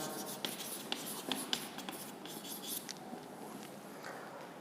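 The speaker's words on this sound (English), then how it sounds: "Let me write the topic name: moving charges and magnetism." Pen writing a topic name on a board or paper during a physics lecture on moving charges and magnetism, soft scratchy strokes with small tapping peaks, close and quiet, and no talking.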